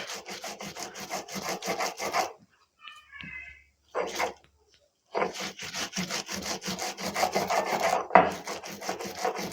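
Prawn heads are ground into a paste by hand, with rapid, rhythmic rasping strokes close by. The strokes pause briefly, leaving a few small scrapes and knocks, then resume steadily, with no talking.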